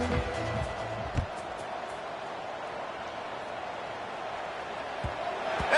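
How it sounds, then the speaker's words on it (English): Stadium crowd at a football game keeps up a steady, broad roar between plays after a score, with brief louder swells near the start and end. "this crowd is buzzing after that last score"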